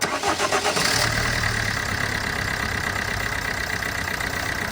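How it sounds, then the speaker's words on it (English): Vauxhall Corsa D 1.3 CDTI diesel engine cranks briefly and catches, then settles into a steady, close, loud idle with a rough diesel clatter. "So let's go ahead one more time, start the engine."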